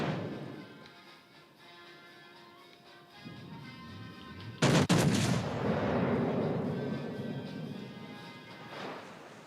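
Heavy warship turret guns firing in a naval video game, with a Bismarck in the fight: one sharp, loud broadside blast booms out midway and rolls into a long, rumbling echo over steady engine and sea ambience.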